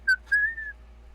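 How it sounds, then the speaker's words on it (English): A person whistles a few clear tones in a tabletop role-playing session: two short chirps, then one longer sustained note, close and alone with no talk. "I guess I could try whistling"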